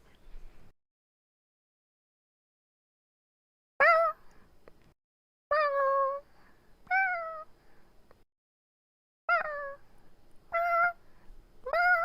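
A person imitates a cat with a series of about six short, clear meows, spaced by pauses and heard alone in a quiet room.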